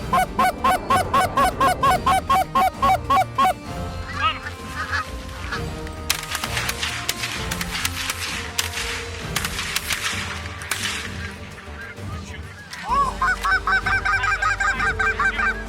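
Geese honk loudly and close in a rapid repeated series during a waterfowl hunt, with sharp bursts and clatter in the middle, then another run of honks toward the end.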